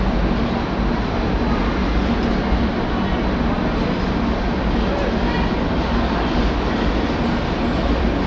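Aboard the Digha–Visakhapatnam Express as it pulls out of Bhubaneswar, a constant loud rumbling roar of carriage and wheels fills the whole stretch evenly, close and enveloping.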